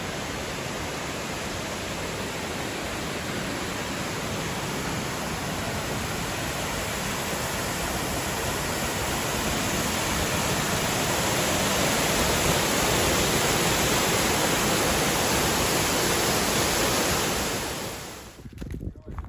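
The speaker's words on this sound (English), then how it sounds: "Just got to Long Creek Falls." Long Creek Falls roars as a steady, loud waterfall on a trailside along the Appalachian Trail, a dense unbroken wash of water that fills the whole clip before cutting off at the end.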